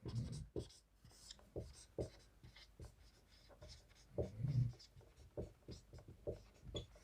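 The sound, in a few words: writing remarks on the side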